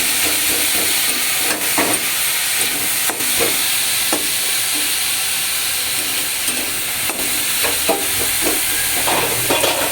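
Chopped vegetables including beet and carrot sizzle and hiss loudly in a pan while being stirred, with scraping spatula strokes recurring every second or so over the constant frying noise.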